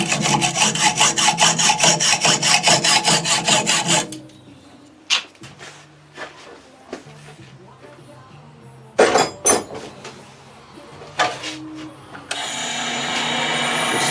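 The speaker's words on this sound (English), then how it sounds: "New hacksaw blade, I think." A hacksaw fitted with a new blade saws through a broken bolt, a run of fast, rhythmic rasping strokes at the start, then scattered metallic clinks and handling knocks, followed by a second short burst of cutting.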